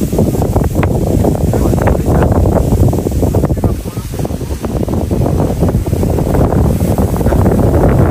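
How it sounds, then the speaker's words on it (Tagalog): Strong wind buffets the microphone in an open mountain setting, a loud, continuous rumbling roar that swells and eases slightly, with a voice faintly underneath. "Sarap ng hangin."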